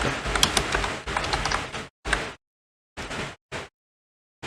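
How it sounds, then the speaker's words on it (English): Keys clatter in quick bursts as a text prompt is typed into an AI video-editing app, close and fairly loud, with short silent pauses between runs of keystrokes. "You can type your prompt here"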